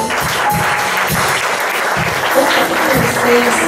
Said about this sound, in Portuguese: Receba nossas palmas, Senhor, em louvor a Ti.